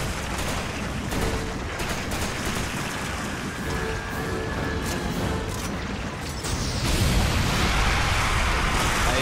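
Gunfire from the video game Resident Evil 5, rapid bursts of shots and blasts forming a dense, continuous barrage that grows louder toward the end, with no clear talking over it.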